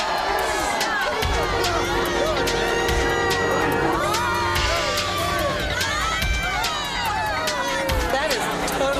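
A crowd on Fremont Street reacts to what is inside an acrylic box, loud overlapping voices, shouts and excited exclamations filling the scene with dense babble throughout.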